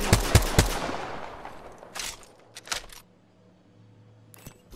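Gunfire in Apex Legends: a quick burst of several sharp shots at the start, then two or three more isolated cracks and a later single shot, close and loud, with a low hum beneath.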